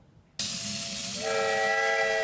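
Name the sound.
train at a train park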